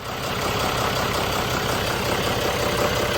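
A John Deere turbocharged marine diesel engine under repair, with a small exhaust leak, running just after being started: a loud, steady, chugging idle that holds evenly throughout.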